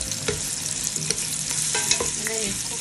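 Onions fry in a pot for Kenyan pilau with a loud, dense, continuous sizzle. Occasional stirring clacks come through the hiss, close up and with no talking.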